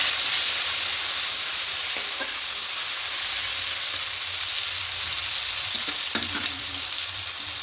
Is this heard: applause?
no